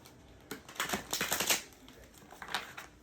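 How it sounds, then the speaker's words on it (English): Tarot cards are shuffled up close in a quick riffle, a soft fluttering burst followed by a shorter second flurry, quiet and without talk. "All right, 2 more shuffles."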